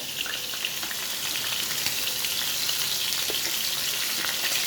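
Fish pieces frying in hot oil in a pan give off a steady, dense sizzle with fine crackling, even and unbroken throughout, with no voices.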